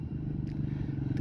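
A quad four-wheeler ATV approaches with a steady, low engine rumble that holds at a constant level throughout the short stretch, no voices.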